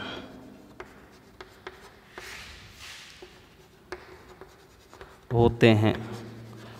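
Handwriting during a school science lesson on convex lenses, faint scratchy strokes with scattered taps under a low background hiss, followed near the end by a brief burst of speech.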